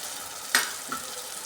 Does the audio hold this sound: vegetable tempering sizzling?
yes